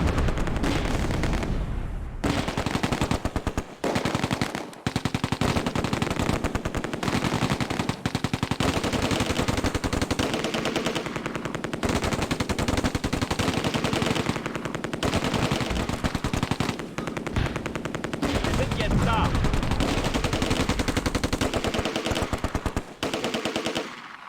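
War game battle from Close Combat: A Bridge Too Far, with loud, dense bursts of machine-gun fire rattling almost without pause and heavier tank gun shots mixed in, going on and on.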